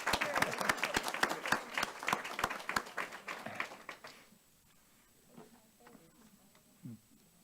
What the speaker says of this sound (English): one more round of applause now